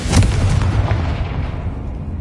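A Confringo blasting spell in Hogwarts Legacy goes off in a single sharp, booming explosion at the start, followed by a rumbling tail that gradually fades.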